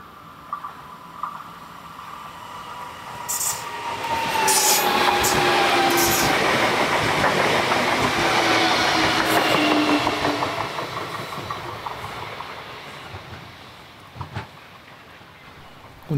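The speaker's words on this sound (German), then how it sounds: "Und das ist wieder der Triebzug, den wir vorhin sahen" Empty multiple-unit passenger train passing close by on a single-track line, swelling from a distant rumble to a loud broadband roar with rail squeal, then fading away.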